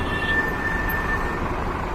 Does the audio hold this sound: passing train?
yes